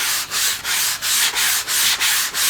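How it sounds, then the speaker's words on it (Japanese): Sandpaper of 180 grit rasps back and forth on a plastic toy sword blade in close, loud, even strokes, about eight rhythmic rubs with short gaps between. "もうちょっとヤスリがけします。"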